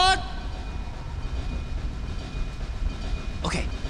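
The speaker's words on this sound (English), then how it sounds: "666 train to Sleepy Hollow." A train rumbles steadily with a low continuous rolling drone, plus a brief whistle-like tone at the start and another short burst near the end.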